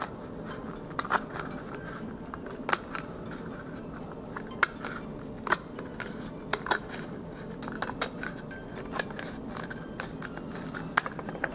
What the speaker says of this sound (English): we're just going to go ahead and cut along the line using the scissors